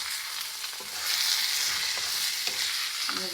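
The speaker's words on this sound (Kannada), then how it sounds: "ಇವಾಗ ಇದನ್ನು ಫುಲ್ ಮಿಕ್ಸ್ ಮಾಡ್ಕೊತೀನಿ" Masala being stirred into a small capsicum curry in a hot pan, a steady close sizzle with scraping spoon strokes throughout.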